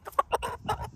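A rooster clucks in a quick series of short, close clucks lasting about a second.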